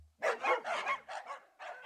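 A dog barks in a short series of bright yips and woofs, several quick bursts with brief pauses between them, near and fairly clear with nothing else heard.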